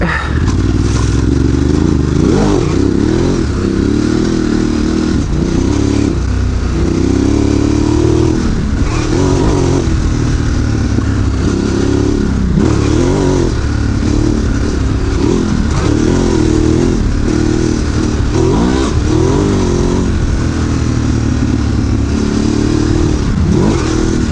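A Ducati Desert X Rally motorcycle ridden off and on road, its engine droning loudly and continuously with rising and falling revs and some clatter, heard close up with no talking.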